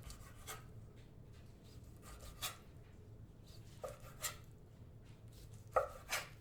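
A knife cutting seasoned chicken breast, salted and peppered, into strips on a board, faint and close, with a few soft, irregular slicing and tapping strokes over low background hum.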